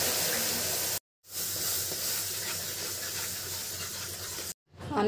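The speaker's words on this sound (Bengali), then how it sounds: "এই পর্যায়ে আমি দুধ ঢেলে দিচ্ছি।" Milk poured into hot caramel in a pot, producing a loud, steady hiss and sizzle close by, cut off abruptly twice by brief silent gaps.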